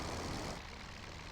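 Sopwith Camel biplane engine in the flight game Rise of Flight, a steady droning roar that is louder for the first half second, then settles slightly quieter and continuous.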